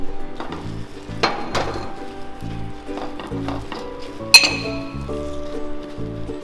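A peanut brittle mixture with baking soda and crushed peanuts being stirred, spoon clinking against the pan in irregular knocks over a faint sizzle, with one sharp metallic ping near the end.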